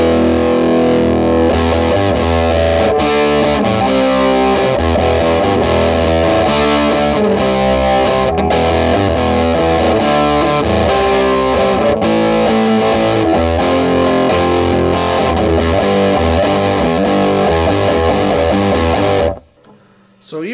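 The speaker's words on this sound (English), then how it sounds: "We have not done crunch on the bright channel yet, so let's do that." Crunchy distorted electric guitar chords through the bright channel of a Puritan Handwired Amps Model 1 ring out loud and continuous, played in a rhythmic riff before stopping at the end.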